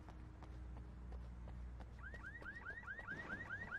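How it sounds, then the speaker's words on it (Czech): An alarm goes off in a video game as neighbours steal a trash bin: a rising, repeating electronic whoop, moderately loud over footsteps and low background noise. "sousedí kradou popelnici, proto se spustil poplach"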